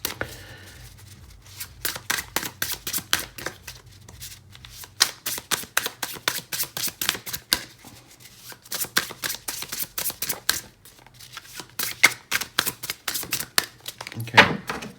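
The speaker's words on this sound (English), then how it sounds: "My shuffling has been horrendous today." Tarot cards being shuffled in rapid riffling bursts, crisp papery flutters repeating in quick runs with short pauses between, close and clear with no talking.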